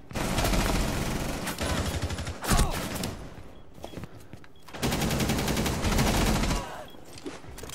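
Video game gunfire, bursts of rapid automatic shots in dense fusillades with pauses between, loud and close, mixed with game noise.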